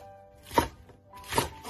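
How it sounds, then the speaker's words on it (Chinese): A knife cuts a scallion into segments, with two crisp, evenly spaced chops on a board against a quiet background. "大葱切段"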